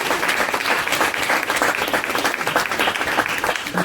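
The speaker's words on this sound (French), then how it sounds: "Donc j'aimerais qu'on l'applaudisse très chaleureusement." An audience at a French film presentation event applauds warmly: dense, steady clapping from a full room, sustained and close throughout.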